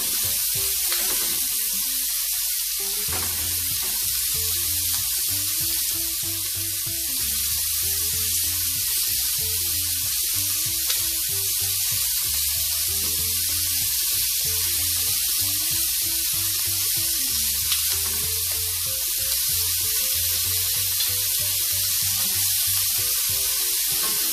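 Jerk shrimp frying in a pan sizzle steadily and loudly for the whole stretch, a constant hiss with a low hum underneath and faint clicks as they are turned.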